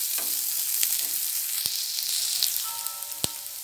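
Finely chopped onion frying in a pan over a medium flame for spinach soup, a steady loud sizzle with occasional crackles and pops throughout.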